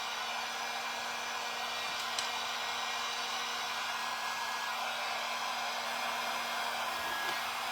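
A heat gun running nonstop during a DIY coaster craft project, a steady close airy blower whoosh with a constant motor hum and no talk over it.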